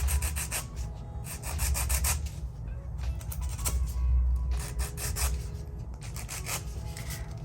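Filing and polishing a permanent bangle bracelet weld, with steady close rasping strokes that come in bursts and continue throughout with no talking.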